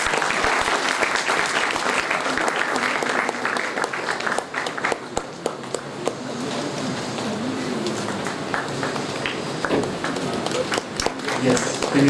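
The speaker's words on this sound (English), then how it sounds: "Please give a round of applause." An audience at a mechanical engineering industry-academia event gives a long round of applause, steady and fairly loud, with distinct individual claps and voices chattering over it.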